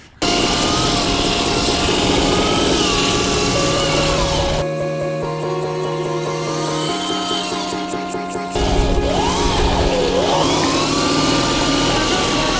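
A homemade 60 mph electric drift kart circles a track, its motor whining loud and close with shifting tones as it speeds up, slows and slides through corners, running steadily for the whole stretch.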